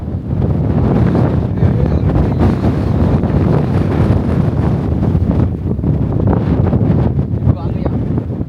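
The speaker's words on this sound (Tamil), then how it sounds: "செம்ம காற்று பவராக இருக்குது" Strong wind on a hilltop on the Delthota Loolkandura hiking trail in Sri Lanka roars and buffets the microphone constantly, a loud, unbroken rushing with a faint voice buried beneath it.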